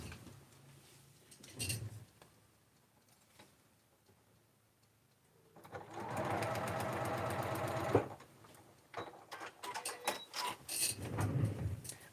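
Sewing machine stitching a narrow seam with a very short stitch length, a quiet rapid whirring run of a couple of seconds between softer handling ticks and rustles, close and faint without talk.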